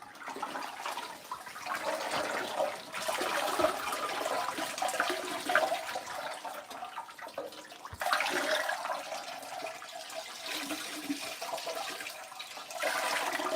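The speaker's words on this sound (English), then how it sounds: "I'm gonna drain the water out, make sure it's going in uniformly wet." Water drains and splashes steadily from a container of dyed puppet fleece, a continuous gurgling flow with a brief break partway through, close by and with no talking.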